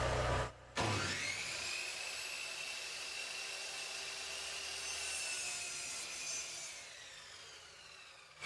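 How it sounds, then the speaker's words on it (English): A hand saw cuts steadily through a pallet wood slat for a treehouse cabin wall, a continuous rasping stroke close up after a brief knock at the start, loud and alone without talk. "I gotta cut each slat to fit in between here."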